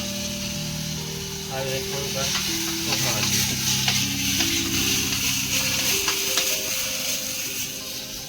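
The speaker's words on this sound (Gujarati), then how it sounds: "પોણી ગરમ કરી લીધું પોણી હવે નાખી દઈએ" Water poured into a hot pan for tempering roti sizzles, a steady frying hiss, continuous and close, with faint voices murmuring in the background.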